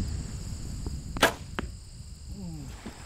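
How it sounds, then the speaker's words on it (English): A hunting bow looses an arrow outdoors on a breezy day: one sharp, loud twang and whoosh near the middle, with a couple of softer knocks after it, over steady wind noise. "So I'm just firing a few rounds, make sure the bow's on, make sure I'm ready."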